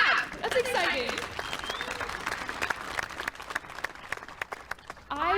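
Applause from the audience at a university spring commencement ceremony, an uneven spread of clapping with scattered cheers and whoops that carries on for several seconds and tapers off.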